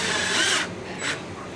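A power drill drives screws into an incubator panel, a loud high whirring burst followed by a shorter second run, close by with no talking.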